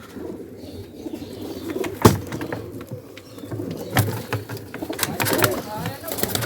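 Pigeons in a breeding loft, coo and call softly amid rustling and a few sharp knocks of wood, with people talking intermittently in the background throughout.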